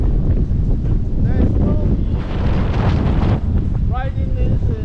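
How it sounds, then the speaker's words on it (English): Strong, gusting wind roars and buffets the microphone outdoors beside a Segway Ninebot Mini Pro self-balancing scooter, a loud continuous rumble with brief surges throughout. "the wind right now is very strong"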